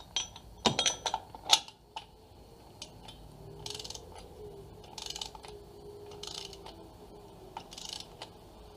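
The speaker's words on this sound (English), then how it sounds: "Now we're going to torque the oil filter." Ratcheting clicks of a torque wrench on an extension tightening an oil filter during an engine oil and filter change, sharp close clicks early then quieter intermittent mechanical creaks and ratchet bursts.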